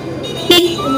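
A monotone puff-up horn fitted to a motorbike gives one short, loud honk close by, over steady background noise.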